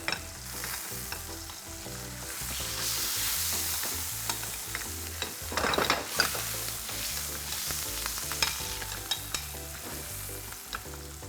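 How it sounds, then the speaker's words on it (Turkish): Bread frying in a pan beside rosemary chicken, a steady close sizzle with frequent stirring and scraping clicks throughout, no voices. "Evet, ekmeğim de kızarıyor."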